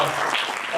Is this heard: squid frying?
no